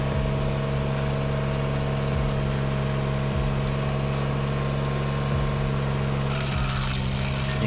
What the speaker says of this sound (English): A smaller grinder would have been better for this job, but this is the only one I have